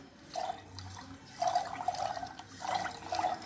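Sugar and water are beaten together with a buttermilk churner for homemade lemon soda, giving soft splashing, swishing liquid sounds in about three bursts. The sound is close but faint.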